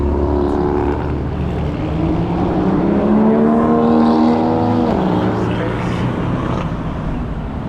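A car passes along a city street in a pleasant, upscale residential area of Taichung, its engine tone sweeping through as it goes by, heard steadily over continuous street background.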